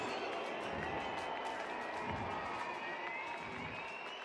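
A concert crowd at a show in Berlin applauds after the band's last song: steady, distant, dense clapping with some cheering, continuous and fairly faint throughout.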